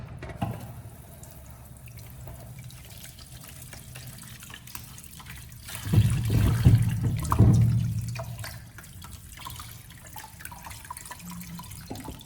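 Water runs and splashes over soaked sweet potatoes being rinsed and drained in a sink, with a low steady trickle swelling into a louder gush for a couple of seconds before fading back to dripping.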